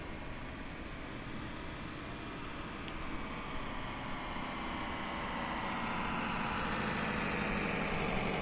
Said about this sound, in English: I think I can just hear the engine now.